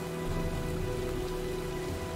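Steady, dense rain of an approaching storm in the video game Heavy Rain, a constant hiss of drops on surfaces filling the whole stretch without pause or voices.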